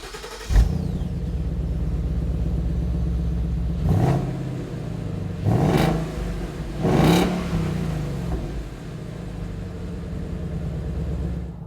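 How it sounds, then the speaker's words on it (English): Stock factory exhaust on a 2015-2017 Ford Mustang GT idling with a steady low rumble, then blipped in three sharp revs that rise and fall quickly, followed by a smaller fourth blip before settling back to idle. "we're going to do some sound clips of the factory exhaust so you have a baseline to go off of."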